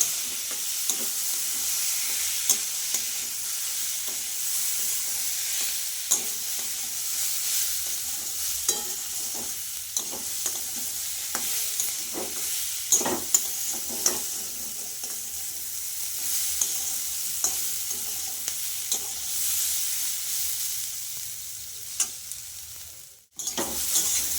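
Chunks of elephant foot yam frying in a pan with turmeric and coarse chili paste, a steady hiss of sizzling oil under repeated scraping stirs, continuous and close, with a brief cut near the end.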